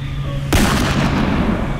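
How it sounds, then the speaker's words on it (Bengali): A second gunshot rings out in a dramatized horror story, aimed at a wolf among snow-covered cypress trees: one sharp, loud blast followed by a rolling, fading echo. "আর একটা গুলি ছুটল"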